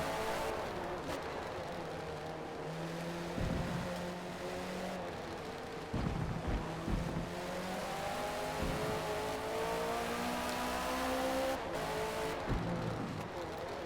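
A race car in the Forza Motorsport racing game, running on worn tires, holds a steady engine drone that rises and falls through turns, with a few sharp shifts and brief tire squeals along the way.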